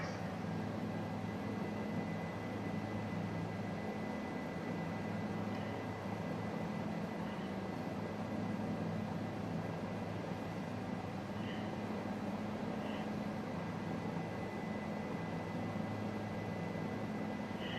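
Steady turbine whine and rotor drone of a Bell 407 helicopter in Microsoft Flight Simulator 2020, flying over Santiago de Cuba, a continuous even engine hum with no talk over it.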